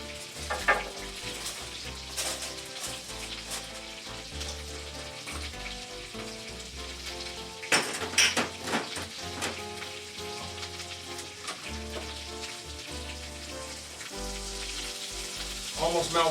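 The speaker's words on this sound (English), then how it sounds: "Mix the butter and the olive oil together so the butter doesn't burn." Butter and olive oil sizzle and crackle in a frying pan with basil. The frying is steady and close, and a continuous tonal background runs beneath it.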